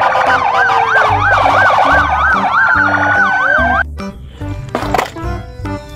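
A toy police car gives off a loud, wailing electronic siren that rises and falls rapidly over a beeping tune, then cuts off to quieter clicks and rattles.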